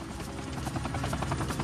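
Black Hawk helicopter rotor thudding in a steady rapid pulse over a dense engine roar, loud and continuous throughout.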